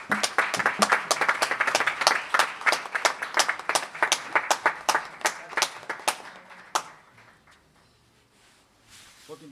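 An audience at an award function applauds with dense, brisk clapping that builds and holds before thinning into scattered claps and fading.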